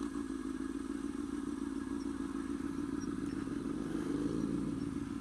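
A motorcycle engine drones steadily with a raspy, buzzing aftermarket-style exhaust note, fairly constant in pitch and loudness throughout.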